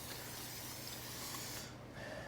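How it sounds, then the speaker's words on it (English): Cooking spray hisses steadily into a baking dish to grease it, a faint continuous spray lasting about two seconds before cutting off. "We're going to want to take a cooking spray, or if you just have, stick of butter, you can just grease the inside of that with the butter or the spray."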